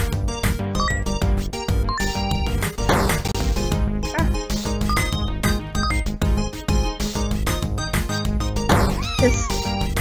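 A cat meows in the video game Wyndragon's Tales, two drawn-out mews rising over dense, busy background music with percussive knocks, the calls fairly clear but partly blended into the score.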